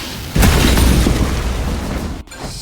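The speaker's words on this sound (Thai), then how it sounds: "หินระเบิดด้านนอก" A sudden loud boom of rock exploding in the video game DC's Justice League: Cosmic Chaos bursts out and rumbles on with crackling debris for about two seconds, close and heavy, then cuts off.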